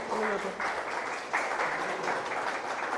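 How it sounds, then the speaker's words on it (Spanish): A church congregation applauds during a Spanish-language sermon, with steady clapping rising in short bursts, moderately distant and filling the hall. "Dale un aplauso al Señor."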